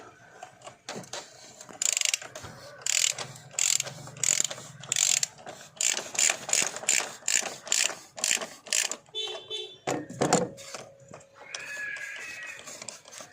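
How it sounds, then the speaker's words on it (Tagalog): A hand ratchet with two extensions and a 27mm six-point socket loosening the oil filter cap on a 2022 Isuzu Mu-X RZ4E engine, with rapid bursts of clicking in repeated strokes, close and crisp, and a brief bit of other mechanical noise between strokes. "ratchet, dalawang extension, 27mm, 6 side. Ito, luwagan natin yung oil filter cap natin."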